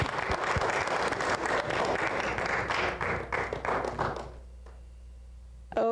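Audience applause for debate candidates leaving the podium at an election debate, steady dense clapping from a crowd for about four seconds before fading out, with a brief sound at the very end.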